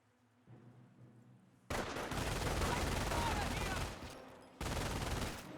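A German MG42 opens up in a Company of Heroes World War II battle, with loud continuous automatic fire bursting in after a quiet start, briefly easing off and then resuming at full intensity.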